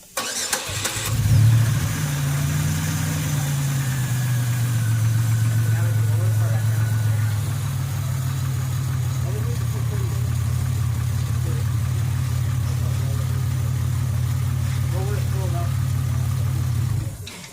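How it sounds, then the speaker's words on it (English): A car engine starts and then idles steadily during an oil change, just after the old oil was drained. A brief cranking burst gives way to a continuous low, even idle hum close by. "Now that we let our motor run for a minute"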